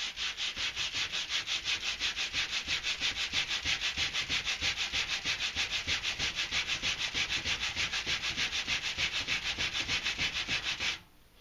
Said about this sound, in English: this is why I love this Velcro sanding block